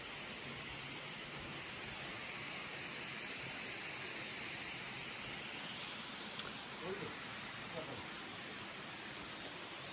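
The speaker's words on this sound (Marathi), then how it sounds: "छान असा धबधबा इथं" Waterfall at a temple site in Nanded district, a steady broadband rush of falling water heard from a moderate distance, faint and continuous, with no clear talk over it.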